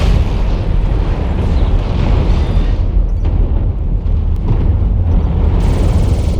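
Artillery shells strike in a MechWarrior Online battle, producing a loud, continuous rumbling roar of explosions with heavy low-end booms that keep going throughout, without any talking.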